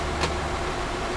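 A MAN TGX truck engine in Euro Truck Simulator 2 drones at a steady, constant level for the whole moment, close and even, with a brief soft hiss near the start and no talking.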